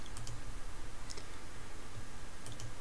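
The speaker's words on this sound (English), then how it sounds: "I click cyclic cross" Soft mouse clicks on a computer while working in Blender 2.8 with the BSurfaces addon, a few faint, sparse clicks in a quiet room with no talking.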